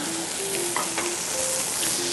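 Flour-coated scallops pan-fry over high heat, giving a steady, even sizzle close to the pan with no talking.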